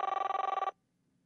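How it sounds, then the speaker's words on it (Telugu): A telephone rings with a loud, rapid electronic trill that lasts under a second, then cuts off abruptly into near silence. "సతీష్ కాల్ చేద్దాం."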